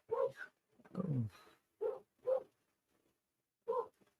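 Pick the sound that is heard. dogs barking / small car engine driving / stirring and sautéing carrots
dogs barking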